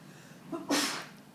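A single sharp sneeze, close by, with a brief inhale just before the burst, then quiet.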